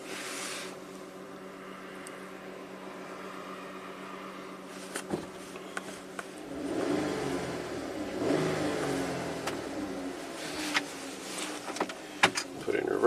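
A Ram ProMaster van engine cranks and fires up, settling into a mid-pitched idle with a few light clicks, while someone talks over it.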